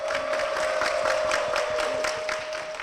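Audience applause in a church broadcast studio greeting a mentor deaconess as she comes on stage, steady dense clapping throughout with no talk.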